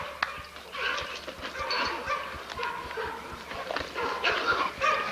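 Dogs in a kennel yard bark and yip repeatedly in irregular bursts, several animals at moderate distance, with steady outdoor background throughout.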